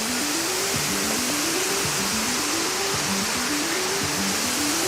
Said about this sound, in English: This is just the upper part of the falls.